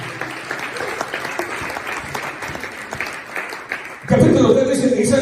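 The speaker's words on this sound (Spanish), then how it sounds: "Le palmas al Señor." A church congregation claps during a sermon, first as a steady rattle of many hands, then a louder, fuller burst of applause near the end. A voice is audible beneath it.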